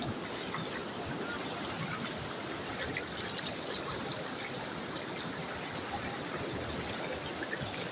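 Stream water running across a road makes a continuous close gurgling rush, fairly loud and unbroken, with no speech over it.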